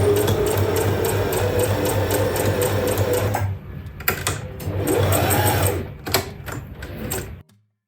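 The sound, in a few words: sewing machine stitching muslin kaftan drawstring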